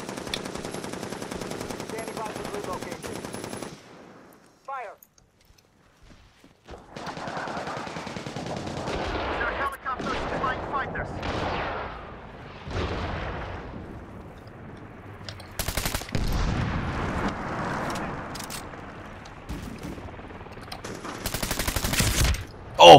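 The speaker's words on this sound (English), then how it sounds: "Oh shit, mortar." Mortar fire and gunfire in the video game Medal of Honor Warfighter: sustained rattling automatic fire, a brief lull, then continuous heavy gunfire with sharp louder blasts near the end, all close and dense.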